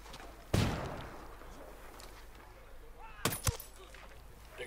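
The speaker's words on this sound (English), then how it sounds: "Hey, throwing a flashbang." A flashbang goes off in the video game Ghost Recon Wildlands: one sharp, loud bang early on, followed a few seconds later by a quick pair of cracking bursts over quiet background ambience.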